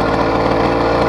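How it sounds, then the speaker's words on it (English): An 80cc two-stroke engine on a motorized bicycle revs loud and close, giving a steady buzzing drone for just over a second with no voices. "Rev the engine"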